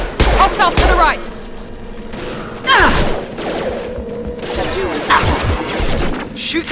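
Loud, rapid bursts of gunfire during a firefight in the video game Mass Effect 2 on the Freedom's Progress colony. Dense volleys and sharp cracks overlap continuously, with heavy impacts and a brief voice mixed in.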